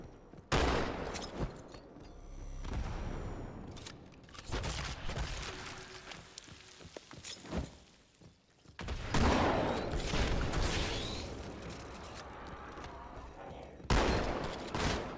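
Shotgun blasts in the shooter Halo 2 come as repeated loud booms with short gaps, several heavy bursts spread across a long stretch of battle noise.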